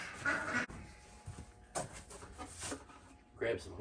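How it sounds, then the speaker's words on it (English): Ducks on a cold Eastern Kentucky farm quack in short nasal bursts, a few close calls spread across the moment with quiet shuffling between. "Chickens and ducks."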